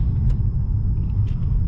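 Low steady rumble of a 2014 BMW 650i Gran Coupe V8 engine with 100k miles, heard from inside while driving, a deep continuous drone with faint higher ticks, no talking.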